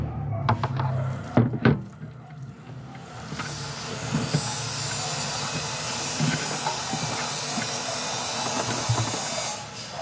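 Water runs steadily over a chicken heart being washed, a continuous splashing hiss after a few knocks and handling sounds at the start, with no talk.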